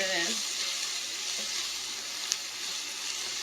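Garlic and onion sizzle in a pan while cooking clam chowder, a steady soft frying hiss close by with one small pop, after a brief voice at the start.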